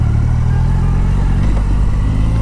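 A Triumph Rocket 3 motorcycle on a demo ride gives a loud, steady, low engine rumble with wind noise, close and continuous throughout, with no voices.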